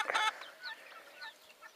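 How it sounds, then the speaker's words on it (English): Young poultry in a farmyard pen, turkeys and baby guinea fowl, give a brief burst of clucking followed by a few faint, scattered high chirps and peeps close by. "now I'm going to go and see my turkeys, see what they're up to, my baby guineas"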